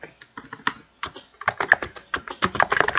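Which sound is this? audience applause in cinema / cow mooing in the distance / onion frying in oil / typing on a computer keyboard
typing on a computer keyboard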